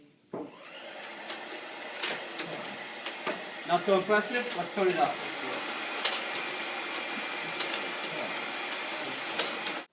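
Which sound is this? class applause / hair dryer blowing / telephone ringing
hair dryer blowing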